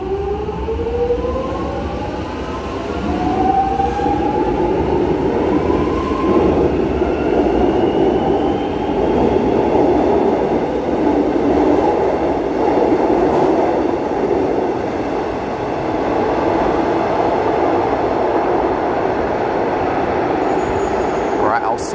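A train rumbles steadily and loudly close by, with a long metallic squeal sweeping through the first few seconds over a constant roar.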